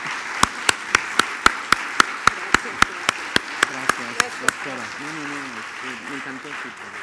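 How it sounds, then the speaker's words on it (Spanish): After a lecture on ethnography in times of violence, one nearby pair of hands claps about fifteen times at a quick even pace over faint room noise, then stops as talking begins. "brindémosles un aplauso por una excelente ponencia"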